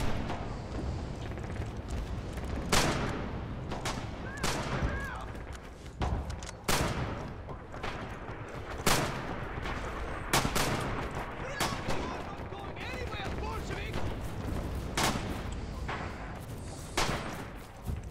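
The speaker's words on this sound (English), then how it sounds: "That was the PPSH I was hearing." Automatic weapon fire crackles through a Red Orchestra 2 battle on the Spartanovka map, a PPSh submachine gun among the bursts: sharp repeated shots and loud booms spread across the whole stretch over constant battlefield din, with voices heard in the background.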